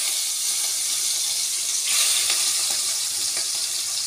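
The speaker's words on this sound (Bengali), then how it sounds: "মাছগুলো আমি দিয়ে দিচ্ছি কড়াইতে" Prawns dropped into hot oil in a wok give a loud, steady hiss of frying that swells slightly partway through and then holds at a constant sizzle.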